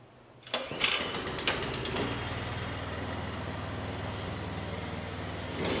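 A snowblower's small engine catches after a couple of pulls on the starter, then settles into a steady, loud, close idle drone that runs on without a break.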